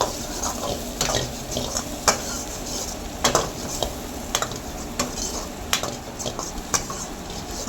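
Cashews fry in cashew chicken masala, a sizzling hiss broken by repeated metallic clinks and scrapes of a spoon stirring against the pan, irregular and close.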